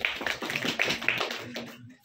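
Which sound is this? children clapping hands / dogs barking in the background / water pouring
children clapping hands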